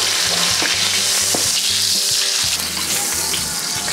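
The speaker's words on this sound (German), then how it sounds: "dann braten wir das Ganze ganz kurz ein" Duroc pork fillet, seasoned with salt and pepper, sears in a hot pan with a loud, steady sizzle and scattered crackles and scraping clatter, with no voices.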